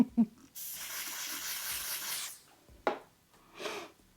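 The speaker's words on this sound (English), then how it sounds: "I don't normally like spraying it on my face" A steady aerosol makeup spray hisses onto a face for about two seconds, followed by a couple of brief rustles and a soft breathy puff.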